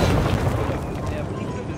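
A frag grenade goes off in the Rules of Survival video game: a loud, broad booming blast that rumbles on for under two seconds, mixed with game noise.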